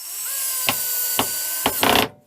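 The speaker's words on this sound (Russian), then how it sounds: "Берем дощечку, которую будем прикручивать. Берем шуруповерт" Cordless screwdriver driving a screw into a wooden board, a steady whining motor broken by three short gritty bursts as the screw bites, ending in a louder grinding spurt before stopping abruptly.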